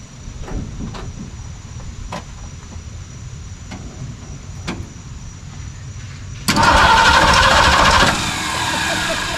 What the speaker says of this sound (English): Well, it cranks. It cranked fast too, didn't it?